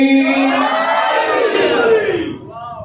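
Large mosque congregation at a Muharram majlis shouting the chant "Haideri" together, one loud sustained collective cry that swells and then tapers off.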